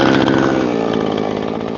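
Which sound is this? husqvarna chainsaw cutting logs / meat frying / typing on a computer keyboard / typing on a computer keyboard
husqvarna chainsaw cutting logs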